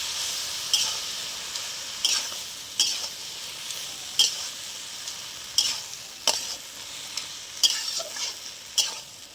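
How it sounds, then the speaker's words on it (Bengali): Poppy seeds, cashews and ginger fry in a pan with a steady soft sizzle, while a spoon scrapes and stirs in about ten evenly spaced strokes, close and clear with no talking. "সেখানে পোস্ত আছে, কাজু আছে, আদা আর রাঁধুনি দিয়ে দিলাম। ভালো করে নেড়ে নেব।"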